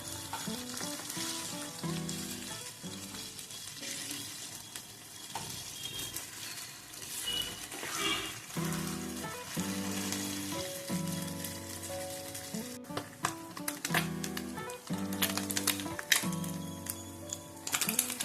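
A first batch of small fish pieces deep fries in hot oil for nethili 65, giving a long, continuous bubbling sizzle with dense crackling and occasional louder pops, close and steady, with no talking.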